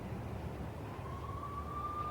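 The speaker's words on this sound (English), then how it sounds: "I could hear the sirens. Their wail was a crescendo." Police sirens wail in the Max Payne video game, a single rising tone sweeping upward and holding steady over a dense low rumble of ambient noise, moderately distant with no talk.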